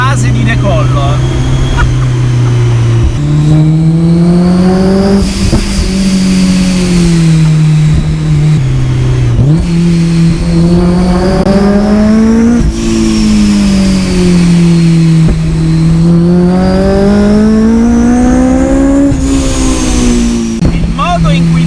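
A Honda S2000's VTEC engine screams close and very loud toward 9000 rpm, its pitch climbing repeatedly and then dropping sharply with each gear change, several times in succession.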